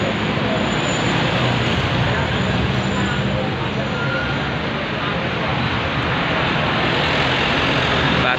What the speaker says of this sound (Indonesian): Ini disusul bus Dana Dasih